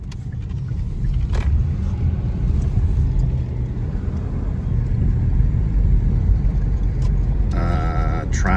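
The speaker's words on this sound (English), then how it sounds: "Traffic." Road traffic rolls past near Hilltop in the Fort Worth area, a continuous low rumble of cars holding steady throughout with a brief brighter swell near the end.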